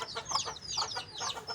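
Chickens cluck and cheep in quick, short bursts close by on a poultry farm; the calls are soft, high-pitched and scattered, with no one talking.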